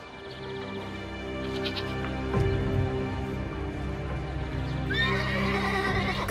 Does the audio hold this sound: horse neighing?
yes